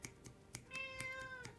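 A pet cat meows, a long drawn-out call near the microphone after a few soft clicks, fairly quiet in an indoor room.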